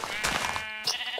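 Minecraft sheep bleating in the game, a clear wavering bleat at close range followed by a short second call, with faint game sounds around it.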